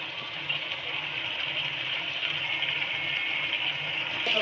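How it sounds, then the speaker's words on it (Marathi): Water poured into a pot of chicken for biryani, a steady, continuous gushing stream that runs unbroken for several seconds with no voices. "त्याचं पाणी ऍड करूया."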